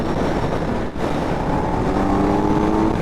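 A 2025 Kawasaki Z900 engine pulling hard in fourth gear, loud, steady and close, with heavy wind rush and a brief dip near the start before the roar resumes.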